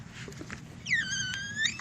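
A faint mechanical squeak rises and wavers for under a second over a low background rumble as a worn, badly leaking magnetic rear shock absorber from a 2014 Cadillac CTS4 2.0T is pushed down.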